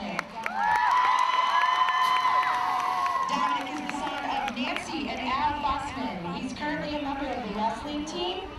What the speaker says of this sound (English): Again, give a round of applause for Destiny and Dominic.